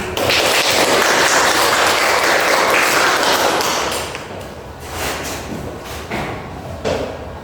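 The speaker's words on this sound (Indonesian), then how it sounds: "Mari kita beri aplaus untuk kelompok 1" A classroom group applauds for the first group to present, with dense, loud clapping that holds steady for about four seconds before thinning into scattered claps.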